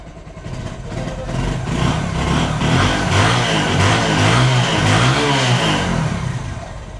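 A second-hand Bajaj Discover motorcycle with an untouched engine revs hard and repeatedly, its loud, close engine note rising and falling in steady surges with no talk over it.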